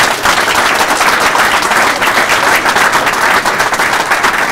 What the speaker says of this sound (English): How about another round of applause for Bill Self?